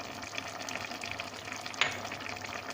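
Water is poured into a pot of chicken, onion and herbs as it cooks for a Moroccan seffa with vermicelli, giving a steady bubbling, sizzling hiss with light splashing throughout.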